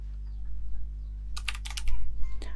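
Keyboard typing while entering subject names and marks into an MS Excel spreadsheet: bursts of quick clicking keystrokes, close and clear, over a steady low electrical hum, with no talking.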